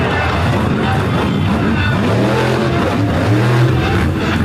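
A monster truck engine roars and revs loudly throughout a freestyle run at a Brooksville truck show, a dense continuous growl with rising and falling pitch, no speech.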